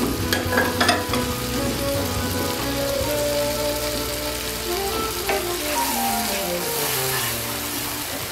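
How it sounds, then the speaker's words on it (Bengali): Spices for chicken and pumpkin curry fry and are stirred in a pan, giving a loud, continuous crackling sizzle with spoon scrapes and occasional knocks close by. "মশলা কষানো হয়ে গিয়েছে"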